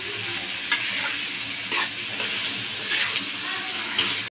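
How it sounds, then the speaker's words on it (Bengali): Country chicken pieces stirred and fried in a pan, a continuous sizzle broken by periodic scraping strokes of a spatula, close and fairly loud. "নেড়ে চেড়ে ভালো করে কষাই নিই"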